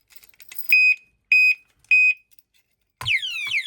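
A battery alarm padlock from a Lidl or Aldi tool range sounds three loud, evenly spaced electronic beeps, then breaks into a continuous shrill warbling siren close up, with no talking.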